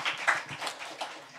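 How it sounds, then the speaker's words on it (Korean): Scattered claps from an audience at a prayer gathering, a few quick hand claps that stay light and thin over a short moment. "박수 한번 드릴까요?"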